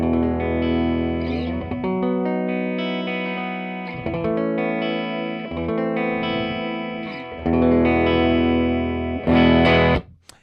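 Clean electric guitar plays chords and notes through an amplifier, ringing out with sustained tones and short pauses between phrases, no voices.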